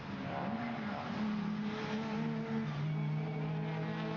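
Two Volkswagen race cars, one of them a Corrado, pass nose to tail in a cup race, their engines roaring close with shifting, overlapping pitches and a brief dip as they go by.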